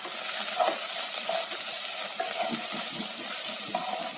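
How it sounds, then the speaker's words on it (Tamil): Ingredients for tomato rice roasting in a pan, a steady close sizzle broken by repeated scraping and clinking stirs at an uneven rhythm, with no talking. "எல்லாத்துக்கும் கொஞ்சம் ஒரு 1 minute இதை ரோஸ்ட் பண்ணணும்"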